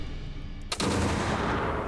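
A pistol fires in the video game Dance Of The Dead, one sudden loud blast that gives way to a dense, sustained roar lasting to the end, with no talking.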